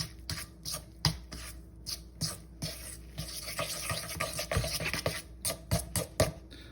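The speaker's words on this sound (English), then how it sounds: "pour some of that in there and mix it with a fork just till it comes together" A fork mixing biscuit dough after milk has been poured into the dry ingredients; quiet, close scraping and tapping strokes in an uneven rhythm, with brief pauses between bursts.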